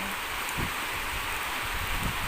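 Steady rain falling outdoors, a dense even hiss of drops with light rustle and wind, constant throughout with no voices.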